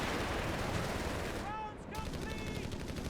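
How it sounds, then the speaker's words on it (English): Heavy machine gun firing continuously in Company of Heroes 3, a dense sustained rattle of gunfire with a short dip midway and faint tonal game effects over the barrage. "Machine gun getting the suppression here."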